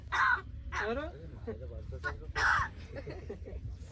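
A tame talking crow, said to have a cough, lets out several harsh, close caws with rough throaty sounds between them, while a person talks nearby.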